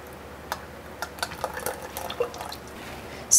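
Ice cream base poured carefully into the center of an ice cream machine bowl, a faint wet trickle with soft drips and splashes running steadily for a few seconds, close up with no talking.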